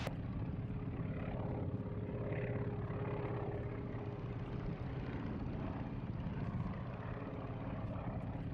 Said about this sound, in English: Let me get a little altitude, Joe, then I'll let you fly it.